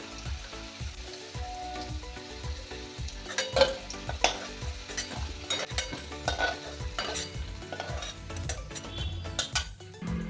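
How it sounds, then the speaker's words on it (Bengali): Fried diced potatoes lifted out of a sizzling pan with a utensil, steady frying hiss under repeated scraping and clinking strokes of the spoon against the pan, close and moderately loud. "আলুটা ভাজা হয়ে গেছে এবার এটাকে আমি তুলে নিচ্ছি"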